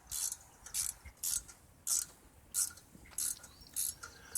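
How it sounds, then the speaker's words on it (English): A socket ratchet loosens the 3/8 shroud bolts on a 2009 John Deere 100 Series mower with a 19.5 HP engine, giving a close, crisp run of about eight evenly spaced clicking bursts with short pauses between strokes. "I will loosen those with a socket, then use a wrench to go the rest of the extraction"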